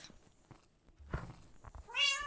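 A Minecraft cat gives a single clear meow near the end, preceded by faint game noises and soft footsteps, with no talking.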